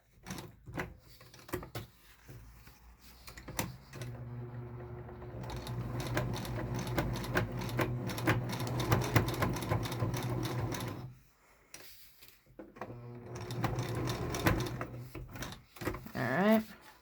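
A sewing machine runs zigzag stitches along thick cotton fabric for a tri-fold mask, with steady mechanical whirring in two long bursts separated by a short pause and lighter handling sounds at the start.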